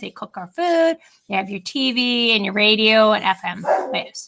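A pet dog barks and yips repeatedly in drawn-out, howl-like bursts, loud and close, while a teacher speaks over it indoors.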